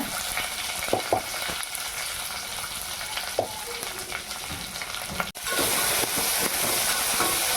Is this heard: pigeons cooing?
no